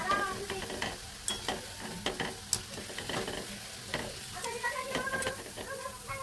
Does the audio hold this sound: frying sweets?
yes